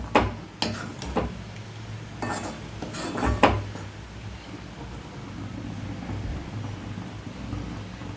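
A metal lid is set onto a pot of boiling curry leaf curry, giving a few sharp clanks and clatters near the start, followed by a quieter low bubbling background.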